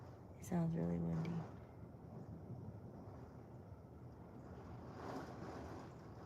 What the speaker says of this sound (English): It sounds really windy.